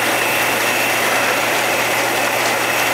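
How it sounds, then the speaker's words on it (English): Rain beats on a tin roof in a dense, unbroken hiss, loud and close throughout, with no voices. "it's raining, and just got it done, and I'm under a tin roof here"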